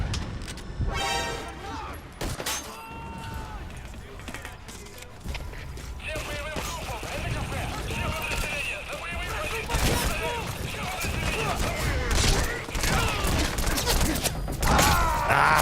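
Full-auto gunfire in Metal Gear Solid: rapid bursts of shots mixed with mechanical clatter and game effects, rising and falling in intensity, with a voice talking over parts of it.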